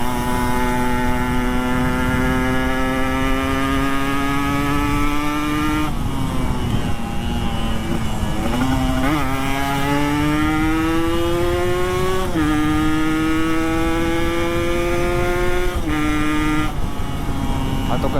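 A motorcycle with vibration trouble, fitted with aftermarket wheels, runs with a loud steady engine drone that rises in pitch through several gear changes as it accelerates and shifts, recorded close from the rider's position.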